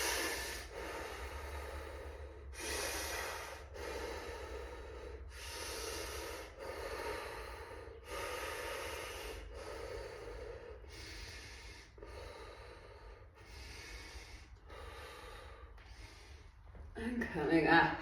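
Heavy, rhythmic breaths are pushed in and out during a squat exercise in a fascial movement class, a close series of about a dozen forceful breaths at a steady pace.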